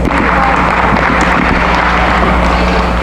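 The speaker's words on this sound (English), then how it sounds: "Let's give him a nice round of applause as they head back." Loud, continuous applause from an audience at a swine show, a dense steady roar of many hands filling the space without pause.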